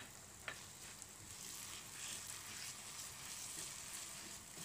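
Spices sauté in oil with kaffir lime leaves, bay leaves and lemongrass for young jackfruit sayur lodeh, giving a quiet, steady sizzle with a faint clink or two near the start.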